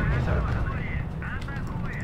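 Massed artillery pieces fire a barrage in the real-time strategy game R.U.S.E., a steady rumbling roll of distant booms and blasts with no single clear shot standing out.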